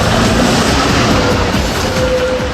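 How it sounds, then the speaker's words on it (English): Tram passing close by on an Amsterdam street, a loud continuous rumble of steel wheels on rails with clattering track noise and a faint high squeal, steady throughout. "Dodging the trams, half the fun of Amsterdam."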